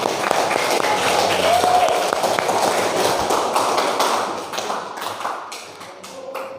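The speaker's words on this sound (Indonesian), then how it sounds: "Bagus, tepuk tangan." A classroom of students claps in applause during an Islamic studies lesson, a dense burst of many hands tapping that thins and fades into scattered claps and shuffling toward the end.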